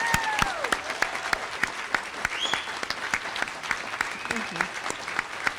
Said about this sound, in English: Let's give one more big round of applause to our graduates.